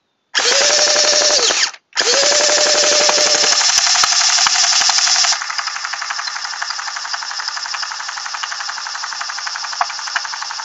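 Ansoy AK-47 gel blaster with a drum magazine on a standard battery firing on full auto, a loud continuous whirring buzz in two long bursts, the second trailing off into a quieter steady hum.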